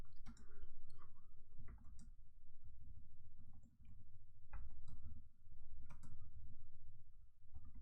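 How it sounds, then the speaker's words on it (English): Keys clack on a keyboard in irregular bursts of close, crisp clicks, with short pauses between runs of typing and no talking. "I can't type."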